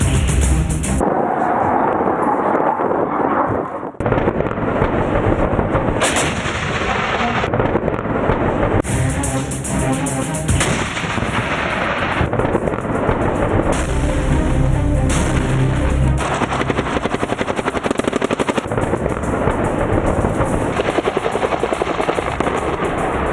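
Heavy military artillery fire from a Pakistani army firepower exercise that also involves air defence, army aviation and infantry: loud, sustained booming and rumbling blasts roll on continuously for over twenty seconds with no voices.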